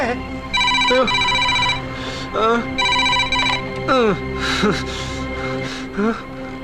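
A telephone rings in repeated electronic tone bursts, fairly loud, with voices talking between and over the rings.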